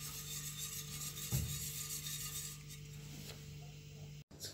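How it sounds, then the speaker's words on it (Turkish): Spoon stirring a banana magnolia pudding mixture in a pot, soft continuous scraping and rubbing under a steady background hum, faint and close. "Karıştıralım."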